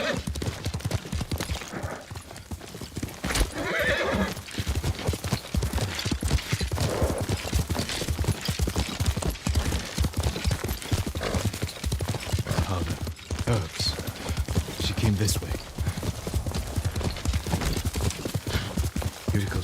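Horse hooves clop in a steady rhythm throughout, with occasional snorts and a brief whinny, in the video game Ghost of Tsushima; a voice speaks a few words over them.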